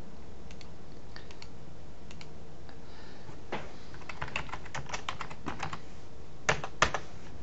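Text being typed on a computer keyboard: scattered soft key clicks early on, then a denser run of keystrokes, ending with a couple of sharper, louder taps, all close and without talk.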